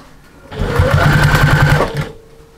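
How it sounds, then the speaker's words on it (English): A sewing machine stitches a fabric loop in place for an armchair sewing caddy, a close, loud mechanical whirring run of about one and a half seconds with a rapid needle chatter, starting and stopping abruptly. "We're going to stitch our loop in place."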